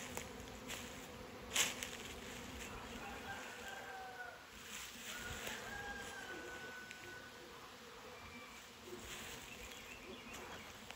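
Honey bees swarm around hive colonies in a backyard apiary, a continuous droning buzz that stays close and steady. Individual bees zip past now and then, with a sharp near pass early on, and no one speaks.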